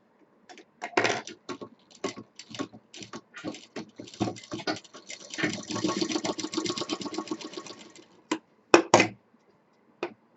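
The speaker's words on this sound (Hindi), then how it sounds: "इधर भी सिलाई कर देंगे ताकि रुक जाए" A sewing machine stitches fabric for a handbag in short, stuttering bursts of rapid needle clatter, stopping and starting over about ten seconds, close and moderately quiet.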